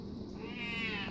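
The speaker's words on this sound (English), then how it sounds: "That's my JoJo kitty" A pet cat gives one drawn-out meow in a home kitchen, close and fairly loud over low room noise.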